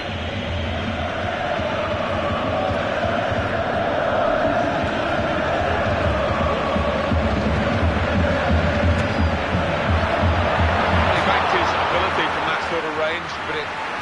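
Stadium crowd roar in a FIFA 14 football match, a broad sustained swell of fans rising off their seats, heard under ongoing commentary voices.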